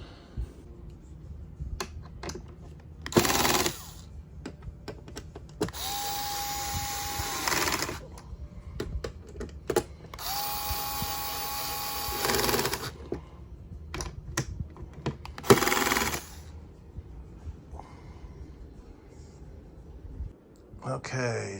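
A power tool fastens a monitor face down onto its mounting bracket for a home arcade build, with several short whirring bursts of a few seconds each separated by clicks, handling noises and pauses, close by.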